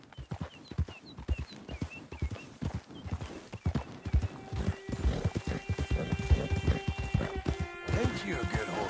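Horse hooves clip-clop in a steady trotting rhythm in Red Dead Redemption II, with a whinny rising near the end, close and fairly loud under a voice talking.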